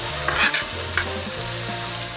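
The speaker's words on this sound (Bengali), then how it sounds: "কপিটা একটু ভাজা ভাজা করে নেবে।" Grated cauliflower fries with cumin in hot oil, a steady close sizzle with stirring scrapes over a low constant hum, no voices.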